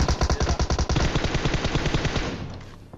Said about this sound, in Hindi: पीछे कहीं से गोलियां चल रही हैं, वो भी धैड़ पैड़ पूरी जान लगा के